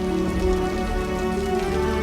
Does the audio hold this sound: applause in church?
no